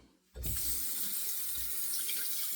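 A bathroom tap opens suddenly and water runs in a steady, close rush into a sink to rinse a Jungie shaving razor, continuing without a break after the brief quiet at the start.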